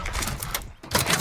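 A short burst of mechanical clicks and clacks from a weapon reload in Call of Duty Modern Warfare, quick and fairly faint, with a brief pause before a final metallic clatter.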